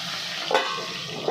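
Steady frying hiss from garlic rice in a hot pan, with a couple of brief stirring scrapes, no voices.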